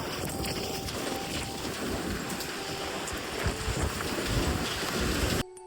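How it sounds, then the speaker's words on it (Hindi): Light rain falls outdoors at night under a darkening sky, a dense steady patter close by that runs unbroken before cutting off abruptly at the end. "निम्मी निम्मी बारिश बरसात भी शुरू हो गई"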